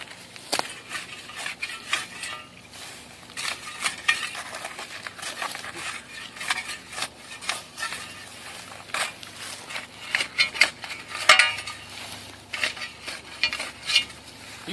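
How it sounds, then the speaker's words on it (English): A knife blade scrapes just under the soil surface, slicing through weed roots: repeated close, gritty scrapes and crunches in an irregular rhythm, with occasional sharper snaps, no talking. "I'm just kind of scraping just under the surface, and it's just cutting right through those roots"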